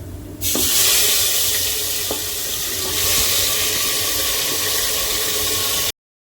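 Strained water from soaked black chickpeas pours into a kadhai already holding asafoetida and cumin, a loud, continuous splashing rush that starts suddenly and runs unbroken for several seconds before cutting off.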